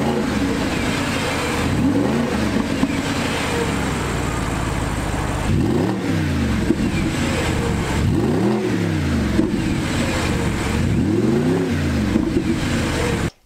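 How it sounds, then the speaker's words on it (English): A first-generation Audi R8 V8 revs repeatedly through an aftermarket exhaust with its valves open in sport mode, its deep exhaust note rising and falling in loud, close sweeps. "it almost sounds like a V8 American muscle car, kind of that Flowmaster sound"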